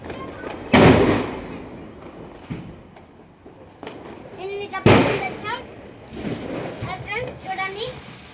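Diwali firecrackers going off outdoors, with two loud sharp bursts near the start and middle standing out over the background and people talking nearby.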